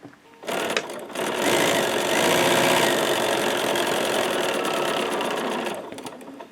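A sewing machine with a quarter-inch foot stitches along a drawn quilting line, starting after a brief stutter and running as a loud, close, steady whirring drone for about five seconds before slowing to a stop.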